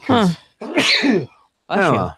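A quick sneeze bursts out close up amid casual podcast conversation, with people talking around it.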